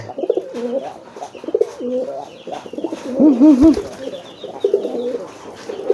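A male pigeon coos repeatedly while focusing on a female, giving a series of soft, throaty rolling calls near the listener, with one longer, louder warbling coo in the middle and quieter ones around it.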